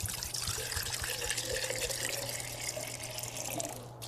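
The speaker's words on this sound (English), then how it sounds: "Fill each jar half the way full with water." Water runs steadily from a tap, filling jars halfway with a continuous splashing rush under a low hum.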